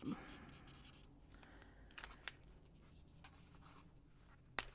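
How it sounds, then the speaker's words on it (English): A bullet tip marker scratches across the back page of thin paper, with soft scribbling strokes under quiet talking, plus a few light taps and rustles. "We'll take this marker and put it on the back page"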